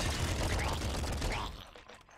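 Rapid gunfire from the top-down shooter game Nuclear Throne crackles in a dense, continuous burst set in a sewer level, then cuts off abruptly near the end.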